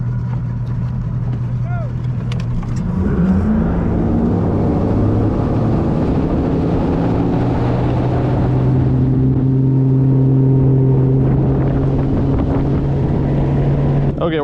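Loud, steady engine drone of a fishing boat at a fishing tournament blast-off, rising in pitch as it speeds up, with wind buffeting the microphone and brief talk at the start.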